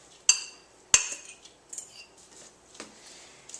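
A spoon mixes muffin batter with apple and carrots, giving two sharp metallic clinks against the bowl followed by softer scattered scraping taps, close and alone.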